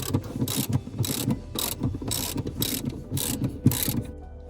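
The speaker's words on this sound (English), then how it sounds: "So we'll just loosen these two off" A ratchet loosens Torx T40 bolts on the front seat rails of an Alfa Romeo Giulietta, producing about eight loud, close bursts of rapid clicking in a steady back-and-forth rhythm, with no voices.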